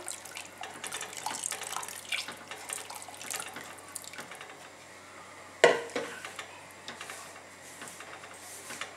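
Fish broth poured into a pot of harira soup, a faint soft splashing and trickling with a brief sharper clatter midway, quiet kitchen background.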